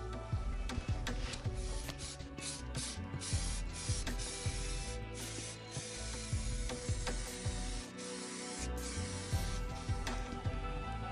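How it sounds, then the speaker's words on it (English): Lacquer is sprayed from an aerosol can onto the wheel arches of an Austin Mini in a garage, with repeated hissing bursts and rattling can clicks, close and continuous. "what I'll do now is I'll give it its first coat of lacquer"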